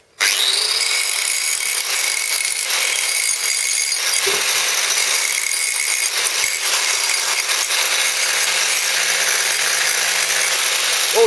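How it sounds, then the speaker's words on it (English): Burrs are removed from a plasma-cut scrap piece of square steel tube with a power tool that runs loud and continuous for about eleven seconds, with a few brief shifts in pitch and no voices. "And then just take the burrs off the side of it like this."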